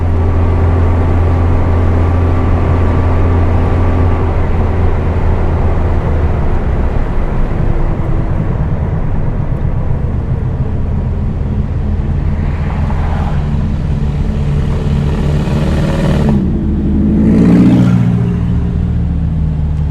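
A 1973 VW Super Beetle's engine runs steadily while the car is driven on the road, a loud low drone that shifts pitch as it accelerates, with a couple of rising swells near the end.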